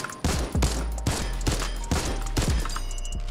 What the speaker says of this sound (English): We got the base infantry rifle here.